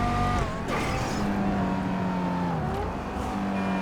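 An HSW Banshee sports car engine in GTA 5 Online hums steadily and loudly, its pitch shifting up and down as it revs, heard alone without talk.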